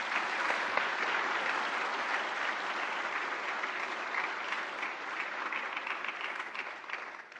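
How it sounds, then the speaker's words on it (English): A large audience claps at a public event welcoming the Prime Minister on stage, a broad, sustained wash of applause that holds steady for several seconds and thins slightly at the end. "A thunderous applause."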